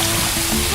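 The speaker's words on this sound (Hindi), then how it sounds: "मेरी कुर्सी के नीचे एक बाल्टी पानी है। यहाँ बहुत पानी है, इससे मदद मिलनी चाहिए।" A bucket of water poured out beneath a chair, a loud continuous splashing rush that fills the whole short moment with no pause.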